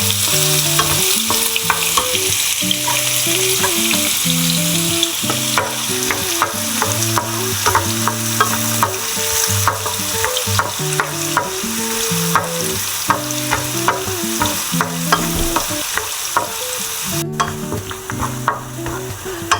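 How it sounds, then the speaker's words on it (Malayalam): Sliced onions fry in hot oil in a pan as a spoon stirs them continuously, producing a loud, steady sizzle punctuated by rhythmic scraping taps against the metal throughout, close up and without any voices. "നമുക്ക് ഇളക്കാം."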